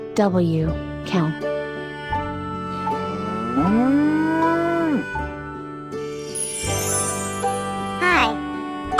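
A cow lets out a long, drawn-out moo in the middle of a cheerful children's tune, the low call rising and holding for about a second before fading back under the music.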